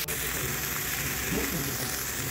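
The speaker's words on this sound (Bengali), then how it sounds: "মশলাটা আর সিমের বিচিকে ভালোভাবে একসাথে কষিয়ে নেবে" Spice paste and flat bean seeds frying in a pan, a steady dense sizzle throughout with a faint stirring scrape, close and continuous.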